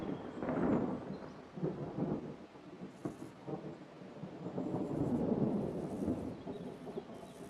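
Autumn thunderstorm with rain, low rumbling thunder rolling in long swells over a steady rain hiss, loud and continuous, with faint fowl-like clucks mixed in.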